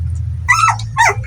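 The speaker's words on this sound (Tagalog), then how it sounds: "Mga maingay yung mga aso mga kabans." Puppies barking nearby, two sharp yapping barks in quick succession over a low steady background hum.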